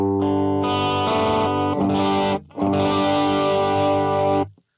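Heavily distorted electric guitar chords from a ToneX V1 amp capture ring out loud and sustained, with a brief break before another long crunchy chord fades out.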